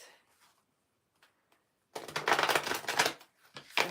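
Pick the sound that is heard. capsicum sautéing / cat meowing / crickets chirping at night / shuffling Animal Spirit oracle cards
shuffling Animal Spirit oracle cards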